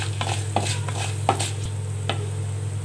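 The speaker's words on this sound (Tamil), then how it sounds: "எல்லாம் நல்லா வறுத்துக்கலாம்." Bay leaves, stone flower and whole spices roast in a dry pan, a light sizzle under repeated clicking scrapes of a spoon stirring at an uneven pace, close by and without speech.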